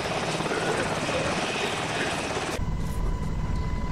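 A helicopter in a game session drones loudly and steadily throughout, with its rotor thrum and engine noise close and dominant and the tone shifting partway through.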